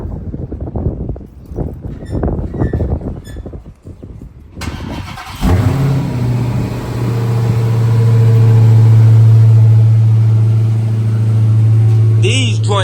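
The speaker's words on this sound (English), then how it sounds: "I'm about to cold start the Hellcat first." A Dodge Challenger Hellcat with stock shorty exhaust cold starts after some nearby talking, catching with a loud bark and then settling into a deep, steady, rumbling idle that holds for several seconds.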